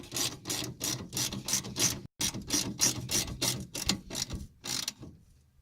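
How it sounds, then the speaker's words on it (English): Rapid ratcheting clicks from a ratchet working on warranty parts of a generator being repaired for breaker tripping, steady bursts of close mechanical clicking with a brief pause midway, then falling quiet. "we can use the ratcheting system"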